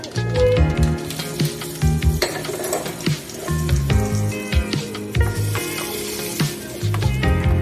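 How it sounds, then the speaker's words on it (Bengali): Two kinds of dal, curry leaves and asafoetida sizzling in hot oil for a tempering: a steady crackling hiss over several seconds, heard alongside background music. "2 রকমের ডাল আর কারি পাতা তেলে দিয়ে গরম করে চাটনির উপরে ঢেলে দেব।"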